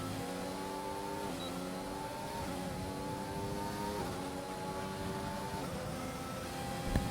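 Formula 1 engines howl in a racing game at the Australian Grand Prix, a steady high-pitched whine from one close car that drops at each gear change, several upshifts in quick succession.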